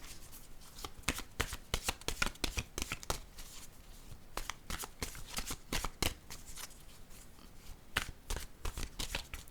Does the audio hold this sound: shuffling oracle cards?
yes